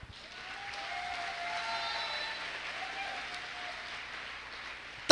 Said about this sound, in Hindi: तालियों में मजा नहीं आया